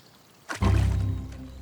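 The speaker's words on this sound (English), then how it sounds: "It's the sound of a water vole entering the pond." A water vole enters a pond in Kielder Forest in summer with a sudden close splash and plop, followed by a brief rush of disturbed water that fades quickly.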